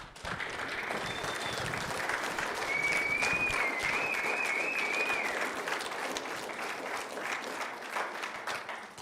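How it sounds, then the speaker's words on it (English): Sustained applause from an audience at a live political town-hall event in Vulcan, Alberta: dense, even clapping that holds steady for the whole stretch, with a faint whistle rising briefly in the middle. "I always feel weird standing up here after you've already clapped"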